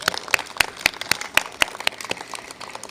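An audience at an elementary school awards assembly claps for the school PTO, a modest scattering of distinct, fairly close handclaps that thins out toward the end.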